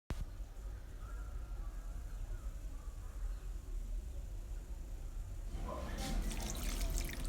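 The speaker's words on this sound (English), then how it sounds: "I'm going to first start with 1 cup of water and then mix it to" Water poured into a flour mixture to make a liquid dough for spring roll wrappers: a quiet, steady trickle that turns into brighter splashing and sloshing near the end.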